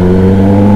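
A superbike engine held at a loud, steady, high-pitched rev just before a race, a brief close burst of strong harmonic engine drone with no voices.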